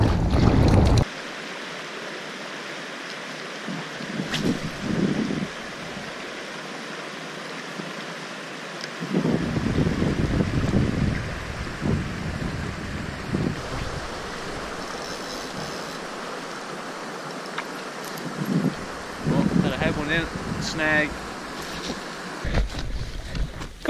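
Wind gusts buffet a canoe on open water, rushing and rumbling in uneven surges with paddle splashes and water sloshing close by, no talking.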